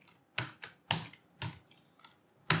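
Close, crisp keystrokes on a computer keyboard as code is entered, about six sharp taps spaced irregularly with quiet gaps between them and no talking.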